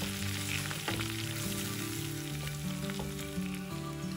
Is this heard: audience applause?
no